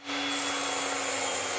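A multi-purpose table saw cuts through a stack of plywood strips, giving a loud, steady whining buzz with a constant high tone that holds throughout at close range, with no talking.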